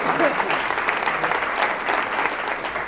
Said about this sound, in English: I should hear a big, huge round of applause, right?